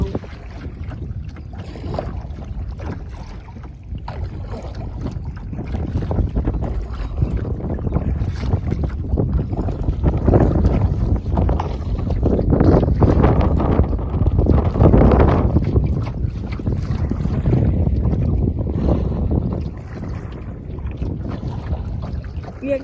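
Lake water slapping and splashing against the hull of a small boat out on the water, a steady washing churn with wind noise that swells louder through the middle and eases near the end.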